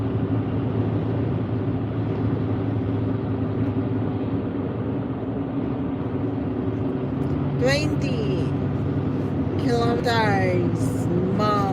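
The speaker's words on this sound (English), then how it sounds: "Wow, traffic." Steady road traffic rumble with engine drone heard continuously, fairly loud, while a person talks over it toward the end.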